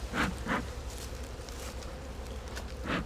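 Honey bees buzz around an opened hive during a hive split, a close, steady drone with a few louder passes as single bees fly near.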